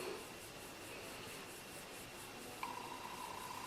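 A crease-defining makeup brush sweeps eyeshadow into the eyelid socket, making a soft, steady, close brushing rub with faint strokes throughout.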